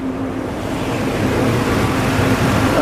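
A car engine, the car with a new battery and a new IAC valve, idles after the IAC valve reset, giving a steady, even rumble with a faint tonal hum, close and uninterrupted, with no talking.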